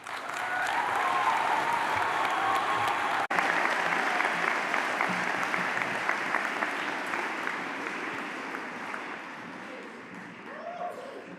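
A graduation ceremony audience in Cambridge applauds with dense sustained clapping and some cheering, loud and continuous, slowly easing toward the end.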